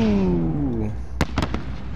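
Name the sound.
illumination flare launched in the video game Call of Duty Modern Warfare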